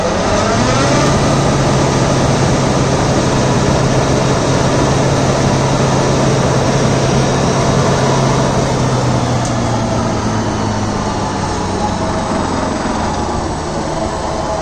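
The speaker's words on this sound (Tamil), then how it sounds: "பிடிஓவில் 540 RPM வருதுல்ல, இதில் 2000 RPM சுற்றுங்க. ரேஸ் வை" A Deutz-Fahr Agrolux 80 CRDI tractor runs hard at high revs, its PTO driving a Maschio shredder through agricultural waste, a loud, steady mechanical roar with a constant drone for the whole stretch and no talk.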